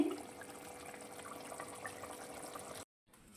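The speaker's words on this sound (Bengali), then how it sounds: "মাছটাকে আমি ঢেলে আপনাদের" Fish curry made with poppy seed paste is poured out of the pan in a steady, soft liquid rush that runs for nearly three seconds, then stops abruptly.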